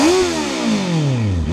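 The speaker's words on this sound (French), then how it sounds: "on va vous faire écouter le petit son pour comparer avec l'échappement d'origine" A motorcycle fitted with an X-Race MK2 full exhaust gives one loud, close rev that climbs briefly and then falls away in a long, smooth descending drone, with no voices.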